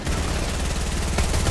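Gunshots in the Fortnite battle royale video game, a dense burst of rapid automatic fire over a short span with a sharper crack near the end.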